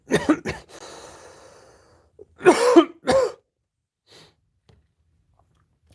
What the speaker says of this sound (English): there will be a lot of that kind of coughing and hacking, unfortunately